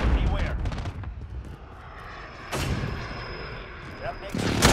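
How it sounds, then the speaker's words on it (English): An airstrike in the Call of Duty Modern Warfare video game: heavy booming blasts and gunfire with a jet roar passing overhead, loud and close, while game voices talk. "Airstrike, beware."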